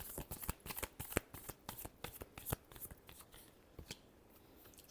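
Tarot cards are shuffled by hand in a series of crisp riffling snaps and flutters, close and fairly quiet. The bursts come quickly at first, then thin out and stop.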